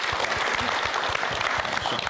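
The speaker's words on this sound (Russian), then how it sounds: "Аплодисменты Светлане." Audience applause for a speaker at a student engineering event in Yakutia, a brief burst of dense, even clapping from a room full of people.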